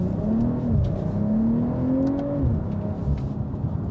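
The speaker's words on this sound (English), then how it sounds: "So we're just gonna do one more acceleration after this tow." A BMW M340i LCI accelerating gently in traffic, its engine note climbing in pitch through a couple of rises and shifts, steady and close from inside the car.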